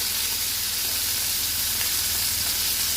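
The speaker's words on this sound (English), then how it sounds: "Now this time I'm going to put a bit of garlic in." Garlic sizzles in a hot pan as part of an easy steak dinner: a loud, steady, continuous frying hiss that holds evenly throughout, with no talking.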